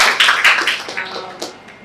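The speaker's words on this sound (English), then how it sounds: "Give her a round of applause." A short burst of clapping from a few people, uneven and fairly close, tapering off over a couple of seconds.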